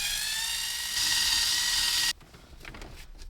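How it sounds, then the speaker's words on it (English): A powered screwdriver whirs steadily as it backs screws out of the lower dashboard trim of a 2003-07 Honda Accord, the whine rising partway through before cutting off to quieter rustling and handling noise. "you just got to remove 2 screws on the bottom"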